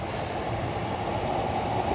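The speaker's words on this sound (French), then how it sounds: "Différentes lignes qui passent ici, voilà, assez régulièrement. Il n'y a pas beaucoup de bus, hein, mais il y a beaucoup de trains." Trains running on the railway lines through Yanaka in Tokyo, heard as a steady, rumbling, rolling roar of wheels on track that stays continuous and fairly loud throughout.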